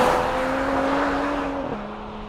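A 2023 Mercedes-AMG CLS 53 engine runs with a steady tonal hum that drops in pitch partway through, fairly close and loud, with no voices.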